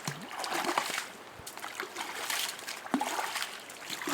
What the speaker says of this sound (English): I'm going to go ahead, put some extra water in there